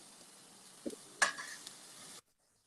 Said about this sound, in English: you got to saute them till they are kind of lightish brown